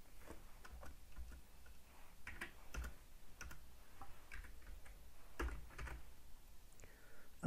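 Quiet, close typing on a computer keyboard while coding an HTML registration page, uneven bursts of light key clicks with short pauses in between, no voices.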